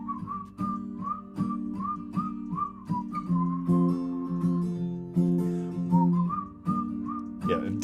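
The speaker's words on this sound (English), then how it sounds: "Trying to whistle and laugh at the same time." A person whistles a tune in a steady series of short melodic phrases, clear and close, over a sustained low accompaniment during a live home music session with a vocal group.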